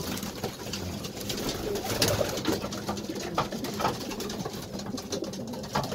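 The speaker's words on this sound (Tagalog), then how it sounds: "Ayan sila mga kalapatids." Pigeons coo softly and repeatedly inside a freshly cleaned loft, overlapping calls with light fluttering and shuffling in a close, busy room.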